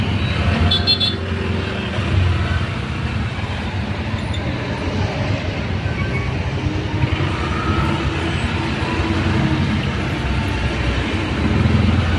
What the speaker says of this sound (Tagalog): Bulbul ang traffic.